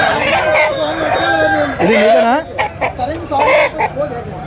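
Country roosters and young cockerels at a Sunday rural chicken market crow and cluck loudly up close, with several overlapping calls, while people talk over and between them.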